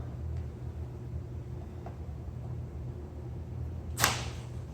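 A clay slab lifted and slapped down onto a work surface to stretch it: a single sharp, loud slap near the end, over faint background hum.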